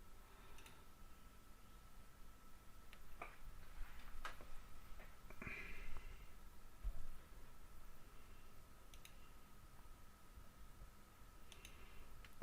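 Sparse, quiet mouse clicks during a Mythbuntu Linux installation, scattered over a soft background hiss, isolated sharp taps a few seconds apart with no one speaking.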